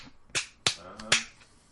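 Three sharp claps ring out in quick succession, crisp and close, with a faint tonal hum between them.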